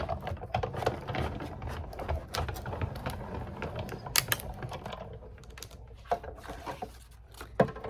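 A Sizzix Big Shot die-cutting machine is cranked to cut a paper banner, giving a steady run of close, dry ratcheting clicks and mechanical rattles that continue throughout with no voices.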